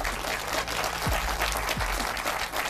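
An audience applauds Ed Miliband with dense, continuous clapping that stays loud and even throughout the short burst.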